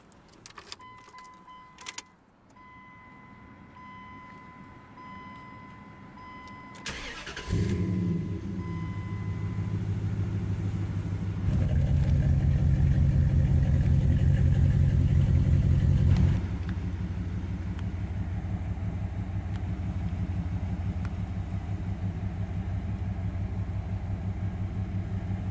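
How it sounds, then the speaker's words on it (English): Faint jingling and electronic chimes, then a 2003 Dodge Dakota SLT pickup with a 4.7-liter engine and custom exhaust cranks and roars to life, revving briefly before settling into a deep, steady idle. "And now let's go ahead and start the engine."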